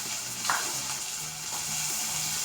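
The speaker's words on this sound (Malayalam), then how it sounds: "ആ വെളിച്ചെണ്ണയിലേക്ക് തന്നെ ഉള്ളി അത് ഇട്ട് കൊടുത്തു." Chopped onions sizzle in hot coconut oil for a Kerala-style beef roast, a close, steady frying crackle with a few stirring scrapes.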